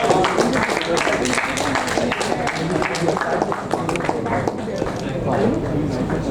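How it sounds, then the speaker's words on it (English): An audience at the S H Babu Memorial Quiz final applauds a quiz team with dense, sustained clapping that fills the whole stretch, while a voice talks over it. "round of applause for"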